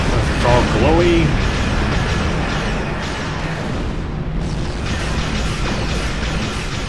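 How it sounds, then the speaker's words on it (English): Ship weapons fire and explosions in the space combat game Star Trek Online, a dense continuous roar of blasts and mechanical effects, loud throughout with a voice talking over it. "Voth Bastion Cruiser is shooting at me."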